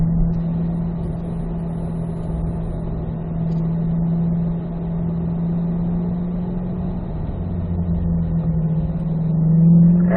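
Pack of C8 Corvettes rolling together around a race track in third gear at an easy pace, a steady low engine drone holding throughout and swelling slightly near the end.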